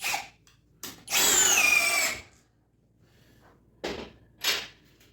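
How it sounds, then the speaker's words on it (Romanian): A cordless drill on its low first-speed setting drives a screw into wood: one loud, close burst of whirring motor whine lasting about a second, followed by a few short, quieter knocks and clicks. "Bun, hai să bag înapoi"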